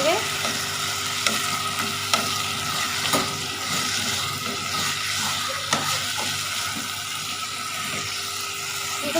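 Tomatoes and potatoes fry in a pan, a steady sizzle under repeated scrapes and clinks of a spoon stirring, with a few sharper knocks against the pan throughout.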